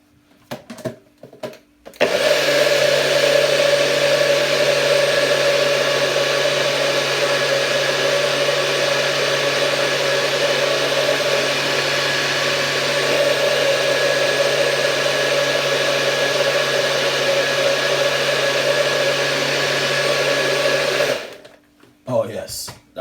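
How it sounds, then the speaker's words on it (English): A kitchen blender whirs loudly and steadily for about twenty seconds while blending Caribbean juice made with Jamaican red syrup, starting and stopping abruptly with brief handling noise at each end. "So we're gonna blend this now"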